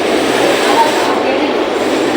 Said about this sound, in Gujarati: જો આવી ટ્રેન આવી છે.